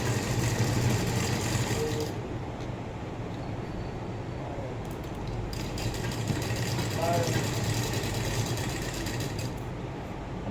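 Sewing machine stitching blouse fabric, a steady mechanical whirr running continuously with someone talking over it.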